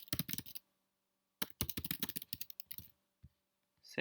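Close, quiet typing on a computer keyboard: a quick burst of keystrokes, a pause of about a second, then a longer run of rapid clicks tapering to a few isolated taps.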